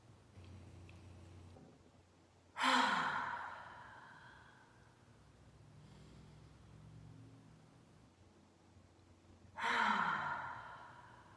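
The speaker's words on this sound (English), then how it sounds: "Let's do that 3 more times. 3 more cleansing breaths." Two long, forceful cleansing exhales from a pranayama breathing exercise, each a breathy rush that swells and fades, separated by about seven seconds of quieter breathing near the microphone.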